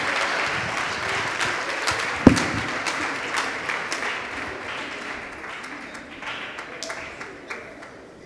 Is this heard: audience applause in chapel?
yes